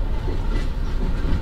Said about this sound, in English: It's a slow moving train.